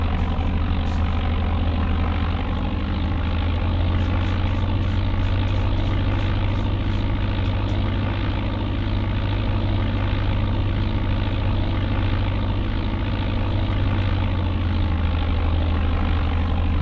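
Steady drone of a Piper PA-23 Aztec's engines at takeoff power in Flight Simulator 95, a constant loud propeller hum with no voices.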